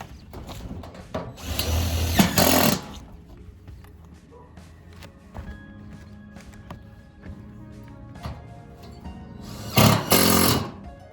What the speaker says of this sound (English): Just put a couple of screws so it doesn't slide down.